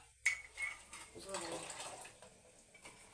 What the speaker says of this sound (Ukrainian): Так, все, зливаємо цю воду.